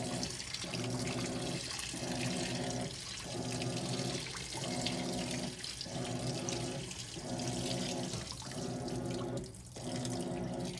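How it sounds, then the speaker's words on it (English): Water sloshes and churns steadily in an empty washing machine drum, a continuous rushing wash broken by rhythmic surges about every second as the drum turns, fairly close and alone. "I show you how the water moves when there's no clothes on it."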